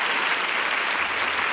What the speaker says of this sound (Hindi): आप सभी तालियां बजाकर उनका स्वागत कीजिए।